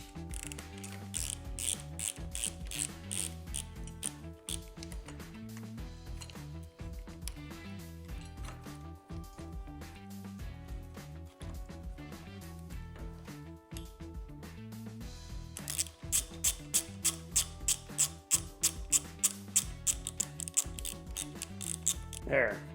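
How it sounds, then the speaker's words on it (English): Ratchet wrench clicking while loosening a motorcycle clutch perch clamp during a grip and billet throttle tube install, rapid steady pawl clicks close up, with louder faster bursts near the end and no talking. "now that we got this loosened up, we need to loosen up our perch clamp"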